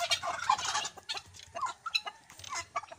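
Turkeys gobble repeatedly in a busy flock, overlapping calls and clucks filling the scene at close range.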